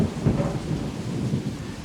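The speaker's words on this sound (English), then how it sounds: "it is absolutely pelting down now. A lot of lightning and thunder." Heavy thunderstorm with pelting rain, a continuous dense hiss of downpour under low rolling rumbles of thunder that swell and fade, close and loud.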